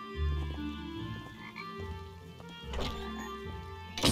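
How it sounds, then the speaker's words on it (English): Minecraft frogs croak repeatedly in the game, deep low-pitched calls close up, mixed with a brief mechanical whir and clatter near the end. "Stupid frogs."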